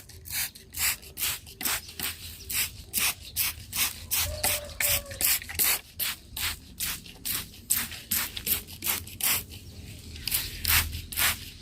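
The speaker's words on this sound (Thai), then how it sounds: "พืชผักสวนครัวของเรานะคะฉีดได้หมดเลยนะคะคุณผู้ชม" Homemade insect repellent sprayed from a hand pump bottle over kitchen-garden vegetables, a steady run of about two dozen short, hissing bursts in quick rhythm, close and fairly loud, with no talking.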